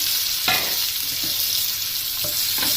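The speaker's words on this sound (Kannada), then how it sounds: "ಈಗ ಒಂದು ಹೆಚ್ಕೊಂಡಿರೋ ಈರುಳ್ಳಿ ಹಾಕ್ತಾ ಇದ್ದೀನಿ" Chopped onion hits hot oil with popped mustard seeds for sambar, giving a brief, close hiss of frying with a few soft stirring knocks over a steady sizzle, no speech.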